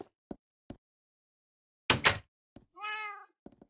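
A cat in the Minecraft video game gives one clear, close meow among scattered soft knocks and thumps, followed by a short burst of noise.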